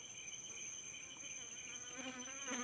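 Bees buzz around colonized beehives, a faint steady drone of many insects with a nearer bee passing loudly toward the end, accompanied by a high insect-like whine.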